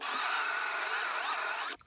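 A power drill whines steadily as it bores into an interior wooden door, running continuously for under two seconds before cutting off abruptly.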